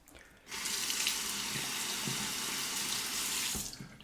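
A tap runs into a sink for rinsing a shavette razor, a steady close splash of water that starts abruptly and cuts off near the end, with no voices.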